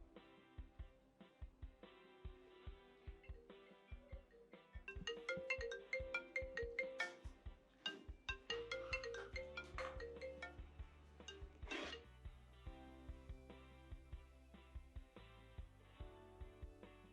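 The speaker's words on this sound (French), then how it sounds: "Ton téléphone fait que sonner." A mobile phone ringtone plays as a melodic tune for about seventeen seconds, loud and up close, rising to a busier passage midway with sharp accent hits, with no talking over it.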